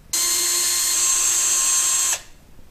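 A power drill with a 1/4-inch bit bores holes for mounting a pool table light, giving one steady, loud high-pitched whine of about two seconds that starts and stops abruptly, with no talk.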